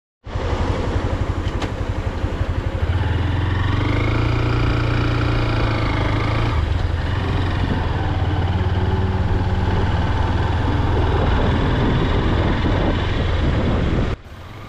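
A motorcycle rides along Banshkhali sea beach on a rough track, its engine a loud, close, steady drone from start to finish before cutting off abruptly.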